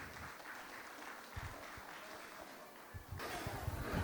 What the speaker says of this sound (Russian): Аплодисменты ваши